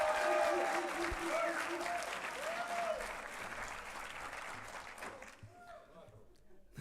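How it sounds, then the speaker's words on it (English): Applause from a graduation audience at a dental medicine ceremony fills the hall, loud at first and then thinning out, while a voice speaks over the clapping. "Come on, keep on applauding."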